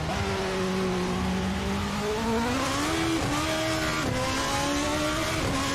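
Formula Beta 2008 race car in a racing simulator with cold tires, engine revving and pitch rising and falling steadily throughout, wheels slipping and skidding, loud and continuous with no talk.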